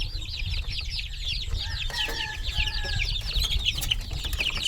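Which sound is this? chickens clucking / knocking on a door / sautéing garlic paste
chickens clucking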